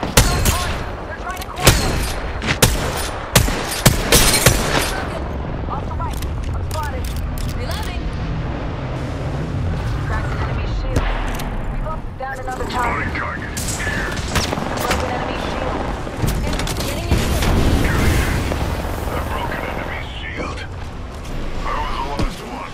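Dense gunfire bursts and a frag grenade boom in Apex Legends, loud and close, with rapid shots clustering early, then continuous combat noise under frequent in-game voice callouts.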